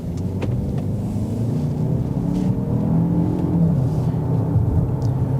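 A 2024 Lincoln Corsair Premier accelerates in Excite drive mode with a continuous low engine drone and road rumble that swells slightly midway, heard up close and steady throughout, with no talking.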